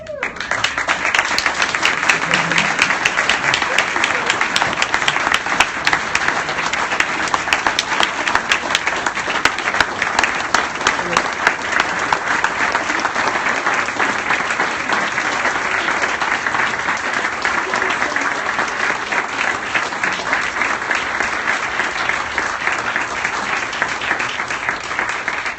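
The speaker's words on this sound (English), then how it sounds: "Someone who really needs applause," Audience applause fills a Rotary Club of Carmel award presentation, a steady, dense clapping from a sizable crowd that stays loud and even for the whole stretch, with no talk over it.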